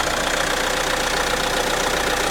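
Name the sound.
Renault 1.6 turbo diesel 4-cylinder engine idling after cold start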